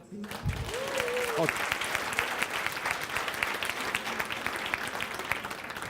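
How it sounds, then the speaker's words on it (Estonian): A conference audience applauds steadily for several seconds, dense and even clapping after a brief voice at the very start. "Aplaus!"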